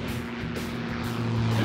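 A bush plane's engine drones steadily from inside the cockpit during an aileron roll over Alaska, loud and continuous with a low hum throughout.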